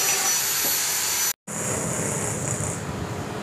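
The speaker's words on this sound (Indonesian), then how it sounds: "Nanti kita akan coba pasang di motor, hasil suaranya seperti apa." A Yamaha Jupiter motorcycle with a reworked exhaust silencer runs steadily with a loud, dense, hissing roar. The sound cuts out briefly for an instant, then the engine carries on at the same level.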